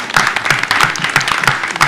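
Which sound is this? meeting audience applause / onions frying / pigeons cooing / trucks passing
meeting audience applause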